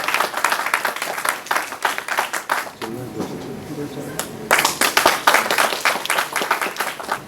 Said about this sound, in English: Please welcome our guests with a big round of applause.